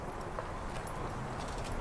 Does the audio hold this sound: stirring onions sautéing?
no